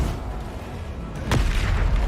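Descendo spell impact in the Hogwarts Legacy video game: a sharp, booming slam about midway that lifts the level, over an ongoing rumble of game noise.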